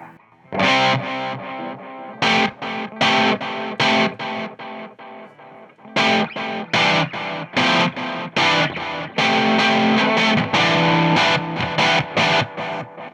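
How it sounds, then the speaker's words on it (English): Electric guitar through a Roland Space Echo delay, playing choppy distorted rhythm chords in short bursts and stabs with gaps between, the repeats trailing each hit, close and fairly loud. "And now if you throw back in the Space Echo."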